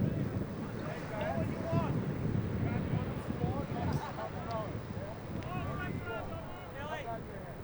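Strong wind buffets the microphone at a beach ultimate frisbee game, a continuous rough rushing under steady commentary, with waves and surf faintly mixed in.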